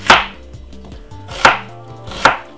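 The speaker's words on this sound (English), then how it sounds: "Cut it very small" Half of a small white onion is chopped finely with a knife, giving three crisp, separate chops spaced about a second apart over quiet background music.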